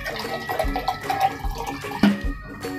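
Water from a glass is poured over 200 grams of lentils in a pressure cooker, a short close splashing pour with gurgles and drips.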